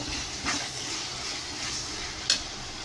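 Onions and tomatoes sauté in a pan with a steady, close hiss and sizzle, a soft stir around the middle and a brief sharp clink near the end.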